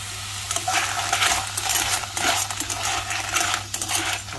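Clams being stirred in a cooking pan, with shells rattling and clinking continuously against the metal in quick, uneven bursts over a low sizzle.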